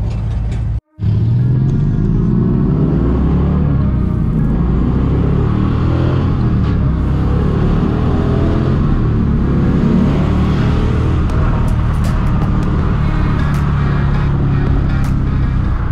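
A loud, deep V8 engine in a swapped sports car with flip-up headlights roars and rumbles continuously up close as it drives, briefly cutting out near the start, then revving steadily.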